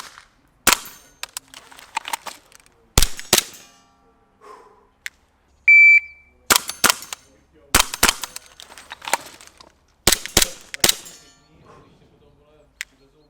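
Airsoft replica pistol fires in sharp, loud single shots and quick pairs, separated by gaps holding softer handling clicks and clatter, with a brief electronic beep partway through.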